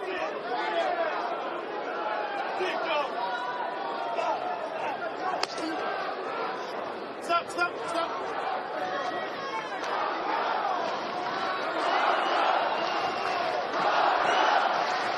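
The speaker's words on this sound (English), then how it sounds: "Crowd getting into it. They've cheered during those big flurries." A large crowd at a heavyweight boxing match between Joseph Parker and Andy Ruiz Jr keeps up a constant roar of chatter and cheering, with occasional sharp bursts rising above it.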